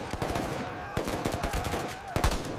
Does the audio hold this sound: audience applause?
no